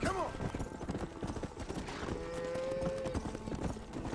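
Cattle herd being driven on horseback in the Red Dead Redemption video game, with irregular hoof clopping and low animal calls and a brief whine-like tone, under a continuous in-game soundscape with voices talking.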